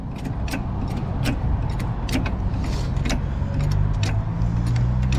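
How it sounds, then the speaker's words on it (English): A jack raises a 2002 Honda Civic Si EP3 parked on a hill during a brake caliper job, giving a steady rhythm of close metallic clicks and ratchet strokes over a low background rumble, with no talking. "We just go ahead and jack up the car like so."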